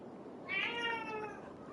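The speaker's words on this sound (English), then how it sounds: "Oh, don't yell at me. Please pardon my cat." A gray tabby cat lets out a single drawn-out meow, fairly close and moderately loud, rising and then trailing off against a quiet room.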